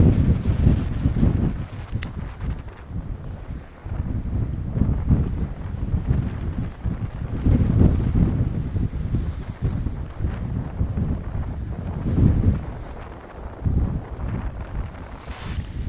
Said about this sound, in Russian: и на плече ветер. Много ветра.